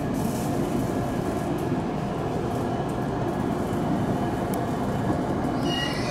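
A delayed Yamabiko Shinkansen running as a night train rolls into Ueno station with a steady loud rumbling roar of wheels on track, a faint high squeal near the end and no talking.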